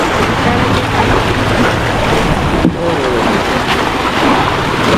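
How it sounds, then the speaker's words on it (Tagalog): An outrigger boat rides over choppy sea off Burias Island, with loud constant engine drone, splashing water and wind buffeting the microphone, and a brief thump midway. "Ayan ang aming bangkang sasakyan."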